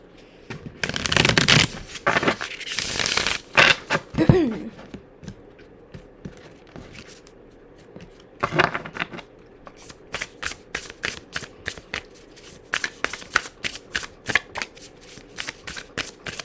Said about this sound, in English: So let's get an animal spirit card for you guys.